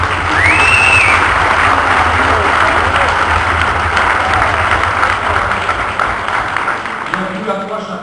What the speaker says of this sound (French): Je vous demande effectivement de l'applaudir.